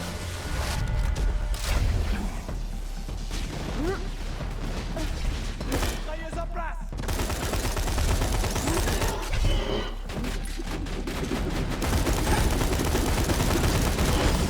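Rapid video-game gunfire from Borderlands 2 crackles in dense bursts with short gaps and booming impacts, loud and continuous.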